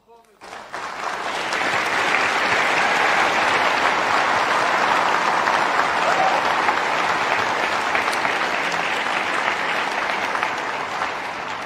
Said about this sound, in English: So the little girl is clapping and clapping,